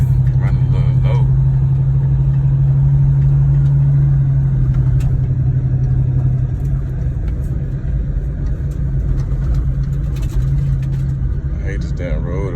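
A car engine runs after a little gas, a loud, close, steady low rumble that holds a droning hum before settling into a smoother idle for the rest of the stretch.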